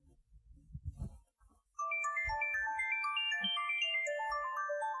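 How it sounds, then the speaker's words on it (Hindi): After some soft rustling and thumps, a mobile phone ringtone starts, a bright repeating electronic melody playing on steadily. "किसका फोन आ गया?"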